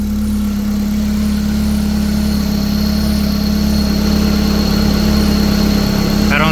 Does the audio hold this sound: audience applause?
no